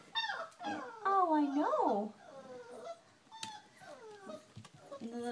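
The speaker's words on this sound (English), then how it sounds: "the little guy who's whining right now" A five-week-old European basset hound puppy whines in high, rising and falling cries up close. A person speaks softly over part of it.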